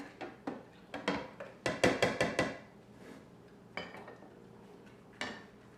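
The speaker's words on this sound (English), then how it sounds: "Give it another stir." A spoon stirs homemade chai tea latte in a mug, clinking sharply against the sides in quick repeated taps, a dense burst in the middle and a few isolated clinks after, close and clear with no talking.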